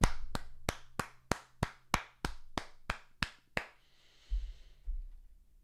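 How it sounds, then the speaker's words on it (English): Single person clapping for a stream moderator, about a dozen sharp, evenly spaced claps, close and loud, then stopping into quiet room noise with a couple of soft thumps. "Round of applause for John, everyone"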